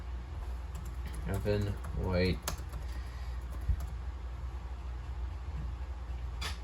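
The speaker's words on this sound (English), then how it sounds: "I'm terrible at typing" Quick clattering keystrokes on a computer keyboard in a short burst, with a voice speaking briefly over low background hum.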